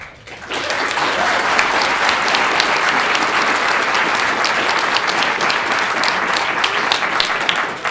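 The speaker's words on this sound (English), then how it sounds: "Pretty good applause." Loud, dense applause from a large audience at a science-communication competition final, a steady broadband wash of many hands clapping that swells in quickly and holds evenly for several seconds with no voices.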